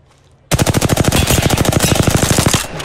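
Incoming automatic gunfire in a ranked shooter match, a sudden sustained rapid volley of loud, evenly spaced shots hammering close for about two seconds before cutting off.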